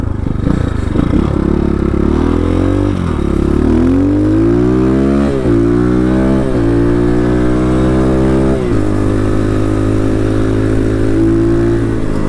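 An X PRO Titan DLX motorbike engine, from 2023, runs loud and close on a first ride, revving up through rising pitches with brief drops between gear changes, then holding a steady drone.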